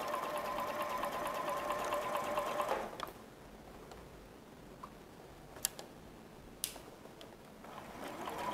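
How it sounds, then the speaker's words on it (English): A sewing machine stitches quilt fabric in a steady, close mechanical whir for about three seconds, then stops, leaving a quiet room with a few faint clicks. "Sew this again."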